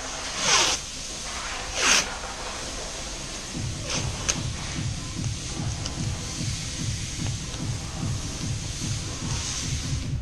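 Wide 2-inch masking tape is pulled off its roll in two quick loud rips, then a softer run of rapid rhythmic ticking and crackling as more tape unwinds or is pressed down near the microphone.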